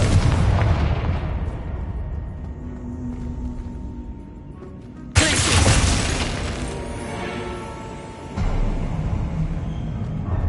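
A Confringo fire spell bursting in the Hogwarts Legacy video game: loud booming blasts with a sharp new crack partway through, followed by long rumbling, crackling decay.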